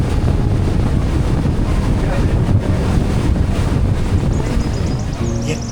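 A fast boat speeds across open water near the Rock Islands, its loud, constant roar of engine and rushing spray mixed with heavy wind buffeting on the microphone, steady for several seconds.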